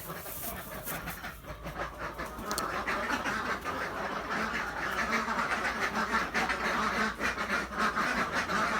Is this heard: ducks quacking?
yes